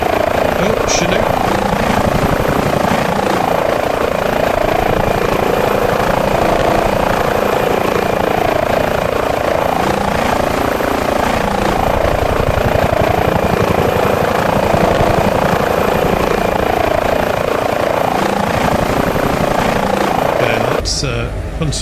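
Chinook helicopter in Microsoft Flight Simulator, a loud continuous rotor thrum and engine drone heard from outside, steady for the whole stretch before cutting off near the end.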